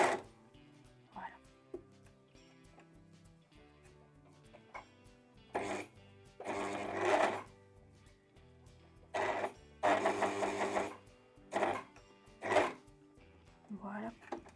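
An overlock serger stitches in several short bursts as its foot pedal is pressed, a fast mechanical whir between pauses filled with faint clicks and handling noises.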